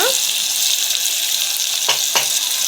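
Brinjal palya sizzles steadily in a pan as the lid is lifted. It gives a close, continuous frying hiss with a couple of brief clinks.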